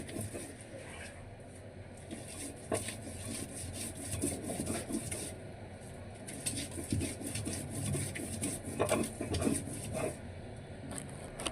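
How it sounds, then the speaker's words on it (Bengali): Local garlic and onions are ground on a grinding stone, a faint, rhythmic back-and-forth rubbing and scraping of stone on stone that repeats in steady strokes with soft background noise. "তো রসুন পেঁয়াজগুলো সুন্দর করে বেটে নিতেছে।"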